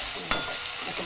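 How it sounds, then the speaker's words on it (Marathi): Curry leaves hit hot oil with a sharp crackle, then a steady close sizzle carries on briefly, no talking. "कढीपत्ता टाकायचा. असं बघा आवाज येते."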